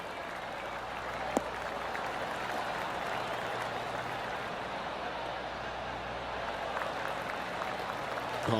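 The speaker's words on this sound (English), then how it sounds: "Oh, golf clap." Steady polite clapping from a golf gallery in the video game PGA Tour 2K23 on the 9th hole, a soft continuous patter with a single sharp click near the start.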